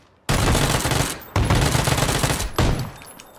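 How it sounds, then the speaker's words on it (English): Three loud, close shotgun blasts in PUBG Battlegrounds, about a second apart, each a sharp crack followed by a heavy, ringing decay. "Fuck, shotgun."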